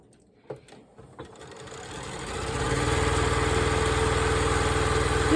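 A few quiet clicks and taps give way to a sewing machine stitching a scrappy string quilt block, its motor building to a steady, close, rapid mechanical whir that runs on without pause.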